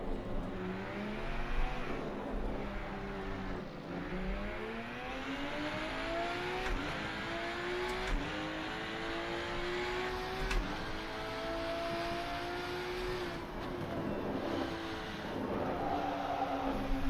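A race car in the Rennsport video game on PS5 Pro revs and drives continuously, its engine note rising and falling through repeated gear shifts at moderate loudness without speech.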